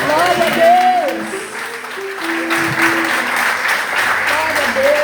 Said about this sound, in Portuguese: Aleluia, aplauda o Senhor.